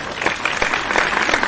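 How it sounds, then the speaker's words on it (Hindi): Audience applause at a Hindi humorous poetry gathering, a kavi sammelan in Alirajpur, arriving as a steady wash of many hands clapping together for the whole short stretch, even and fairly loud. "सही बात है, तालियां भी सुंदर है।"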